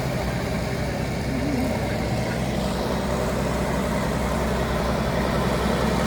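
A tractor fitted with a small straight-pipe exhaust rolls by in a farm show parade in Wolford, North Dakota, its steady low engine drone running unbroken and fairly loud throughout.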